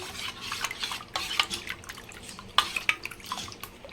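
Water splashes and drips into a panipuri pani mixture in short, uneven bursts, close and soft, with a few light clinks from the container.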